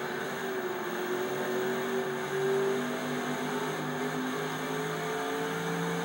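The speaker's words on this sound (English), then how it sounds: "Then when you get outside, it sounds like a NASCAR." A NASCAR race car engine in the NASCAR The Game 2011 video game drones steadily from outside the car, a continuous buzzing hum with slowly shifting pitch throughout.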